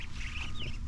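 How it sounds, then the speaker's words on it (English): Short clucks from a chicken picked up among ducks in a backyard, a few faint bird calls over a low rumbling, noisy background with no talk. "We picked up a chicken."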